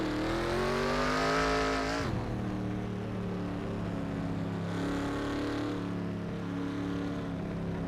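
A car driving the Isle of Man course in the NR2K3 racing game, its engine whining steadily and loud, dropping pitch sharply on a shift then climbing again, with some tire noise.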